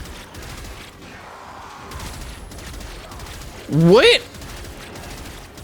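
A glitching gun fires in the Warframe video game, heard as soft shots over low game ambience, then a sudden loud, warbling, sweeping electronic burst near the end, with a voice speaking briefly.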